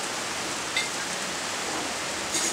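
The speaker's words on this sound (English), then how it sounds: "So it's gonna be raining for a while." Rain falls steadily on a campsite, a dense, even hiss of drops on surfaces, close and continuous with no voices.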